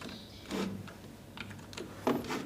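A few soft, separate keystrokes on a computer keyboard, including the Enter key, while marks are typed into a Microsoft Word student result sheet; quiet, close clicks with no talking.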